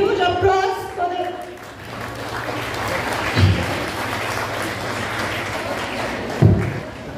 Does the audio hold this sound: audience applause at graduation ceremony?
yes